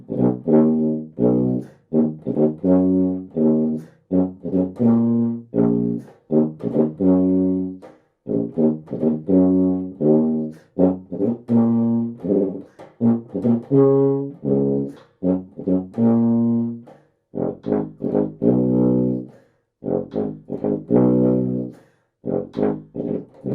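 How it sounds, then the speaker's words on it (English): Loud, strong tuba notes bolstering a full orchestra at a big moment, a run of sustained low brass tones in short phrases with brief breaks, played close and alone. "the tuba will be playing loud, strong notes that are helping to boost the whole orchestra for a big,"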